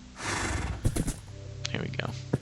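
A Minecraft horse gives two whinnies, the first shrill and drawn out and the second shorter, with a few soft game clicks between them.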